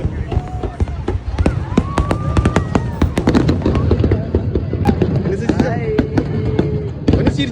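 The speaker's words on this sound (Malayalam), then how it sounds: "ഫയർ വർക്ക് സ്റ്റാർട്ട് ആയിട്ടുണ്ടായിരുന്നു" A fireworks show at Etihad Arena in Abu Dhabi: rapid, sharp crackles and pops stacked densely, with whistling rising streaks between them, heard fairly close over a murmuring crowd, with voices talking throughout.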